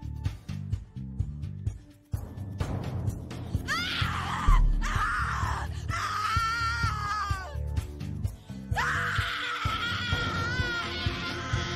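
A person screams in the Cat Lady video game, loud, drawn-out wailing cries in several bursts over a dark, droning game soundtrack, with strained groaning between them.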